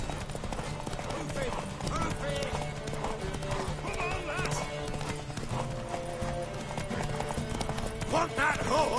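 Horse hooves clip-clop in a steady rhythm in a PS4 video game, mixed with a whinny, music and character voices talking over the action.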